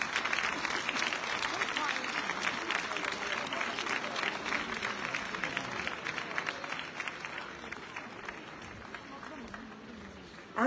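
Applause from the audience at a children's Christmas concert, a dense, steady clatter of many hands that fades gradually toward the end.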